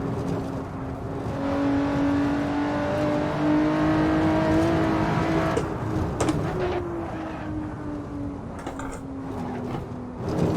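A Lotus Exige S engine in Assetto Corsa on the Nordschleife, holding a steady sustained drone with a tone that shifts gradually up and down through gears, continuous and fairly loud with no speech.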